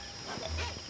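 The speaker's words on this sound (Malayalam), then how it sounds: "ഈ പട്ടി എന്തിനാ അങ്ങനെ കിടന്ന് കുറയ്ക്കുന്നത്?" A pet dog barks from a short distance, one or two quick yips over a steady background hum.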